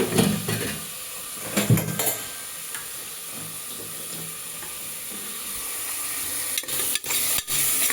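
Chopped onion and tomato fry in hot oil in a pan for a village-style methi bath, giving a steady close sizzle with occasional stirring scrapes and a few sharp utensil knocks near the end, no voices.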